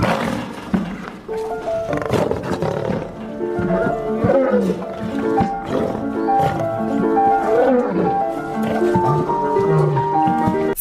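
A lion roars and growls amid other wild animal calls for about eleven seconds, a dense, continuous, loud mix with rising and falling rumbles and no speech.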